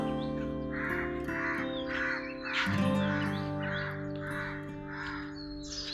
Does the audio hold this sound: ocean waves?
no